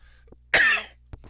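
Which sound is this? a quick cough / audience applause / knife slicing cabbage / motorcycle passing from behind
a quick cough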